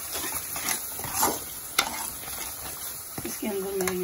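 Tomato masala with biryani masala frying and being stirred in a pan, a steady close sizzle with scraping strokes of a spoon, a sharp clink partway through, and a faint tonal hum near the end.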